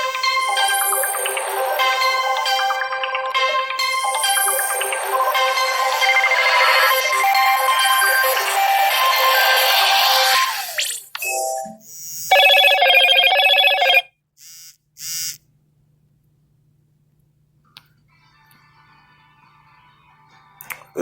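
A Motorola "Hello Moto" phone ringtone plays loud and close as a bright, busy melodic jingle for about ten seconds, then a few short tonal bursts follow before it falls to near silence with a faint low hum.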